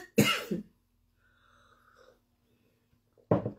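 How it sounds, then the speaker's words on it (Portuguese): Two sharp, loud coughs from a person with a sore, irritated throat, one at the start and one near the end, separated by a stretch of near silence with faint background murmur. "de vez em quando tem que dar uma tossidinha e molhar a garganta um pouco"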